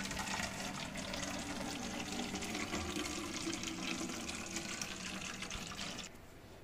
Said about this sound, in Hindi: तो चलिए मैंने पानी भर लिया अपनी बोतल में।